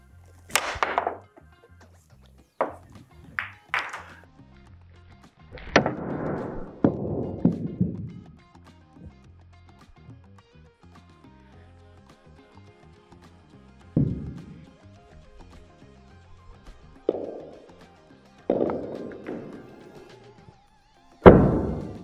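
Pool balls and a cue on a billiard table during a jump massé shot, a string of separate knocks and thuds with short rolling tails, spread out over quiet gaps.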